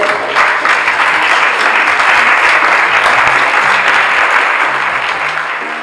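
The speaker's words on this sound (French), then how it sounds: "Je vous demande de les applaudir, s'il vous plaît." Loud, steady applause fills an assembly hall, with many hands clapping in a dense, even wash that holds strong throughout and eases slightly at the very end.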